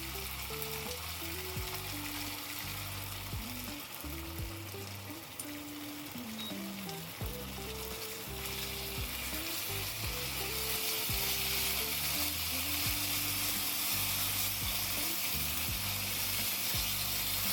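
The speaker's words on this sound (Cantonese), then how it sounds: "我哋 keep 住個中火，煎到嘅一面焦焦地。" Beef rice noodle rolls pan-fry over medium heat with a steady, dense sizzle throughout, under a continuous low tonal hum with shifting pitch steps, and no voices.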